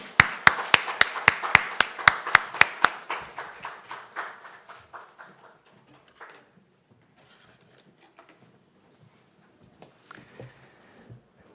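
Applause from parents and supporters at a Christian school vision-sharing event, starting as sharp, loud clapping and gradually thinning into a few scattered claps over about ten seconds, with no one speaking.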